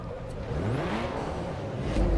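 A D-class race car in Forza Motorsport 3 revs briefly, a rising and falling engine note that is close and fairly loud, heard alone.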